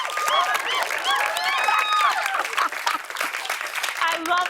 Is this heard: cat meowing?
no